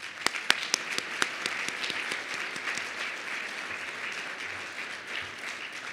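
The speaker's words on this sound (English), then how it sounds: "another round of applause for our change makers" A ceremony crowd applauds change makers at the LSU College of Human Sciences and Education Hall of Distinction 2022, a few sharp close claps up front swelling into a steady, evenly sustained round of applause.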